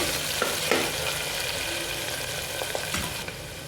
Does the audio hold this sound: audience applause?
no